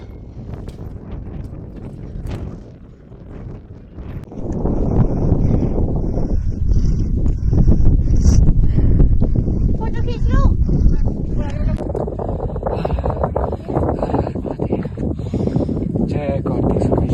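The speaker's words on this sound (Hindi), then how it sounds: "यहाँ पे आपको हवा की आवाज़ सुनाई दे रही होगी, कितनी तेज़ हवा चल रही है।" Strong wind roars across a high Himalayan mountain ridge in Uttarakhand near Kartik Swami temple, buffeting the microphone in loud gusts while someone talks over it.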